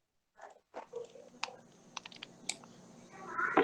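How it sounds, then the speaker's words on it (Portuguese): Scattered keys pressed on a computer keyboard during a basic Excel class, a few separate close clicks with sparse gaps and a brief rustle at the end, no voices. "E aí você aperta o Delete no teclado."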